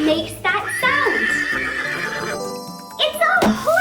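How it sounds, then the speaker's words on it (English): A horse gives a long, loud, quavering whinny close by. The neigh rises and falls over a few seconds and ends in short snorting bursts. "It's a horse!"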